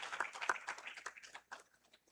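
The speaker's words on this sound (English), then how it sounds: "Clap for ourselves." Scattered, faint hand claps from a small conference audience at the close of an academic curriculum development conference, uneven and thinning out over about two seconds.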